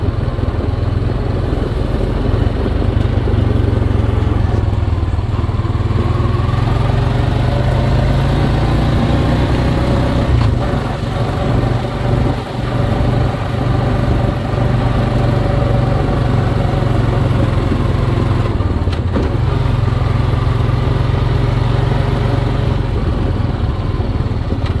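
A Honda Rancher 4x4 ATV engine, 2021 FM1 model, drones loudly and steadily while riding, with a continuous mid-pitched hum that shifts slightly around gear changes, close and alone without speech.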